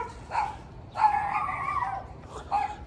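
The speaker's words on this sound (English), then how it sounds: "Uh-oh, I got the dogs." Dogs bark in short, close yips and woofs, three separate bursts with a longer bark in the middle, at a backyard where a lawn is being mowed.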